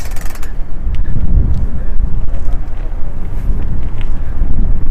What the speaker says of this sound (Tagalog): So, medyo mahangin ngayon.